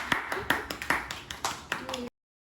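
A small group claps in a loose, uneven rhythm of about eight separate claps, close and moderately loud, with talk in the background before it cuts off abruptly.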